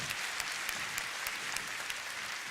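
Graduation audience at the Manor Senior High School 2022 ceremony clapping, a steady, fairly distant wash of many hands that carries on evenly throughout.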